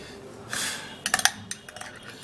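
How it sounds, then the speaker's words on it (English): A spoon stirs a mixture of organic honey, turmeric and banana, giving a soft scrape followed by a quick run of close, light clinks against the container. "so now I would have to stir and mix it all up really good"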